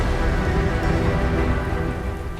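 Steady monsoon rain pours down in the first downpour of the season around an underground metro station in Mumbai, a dense continuous hiss with low rumble throughout, loud and close with no voices.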